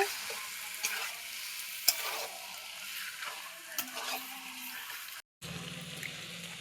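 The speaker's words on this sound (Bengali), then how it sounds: "আমি ভালোভাবে একটু নাড়াচাড়া করে নিচ্ছি" Goat meat curry frying in a pan and being stirred, with a continuous sizzle, intermittent spoon scrapes and clinks, and a short gap near the end.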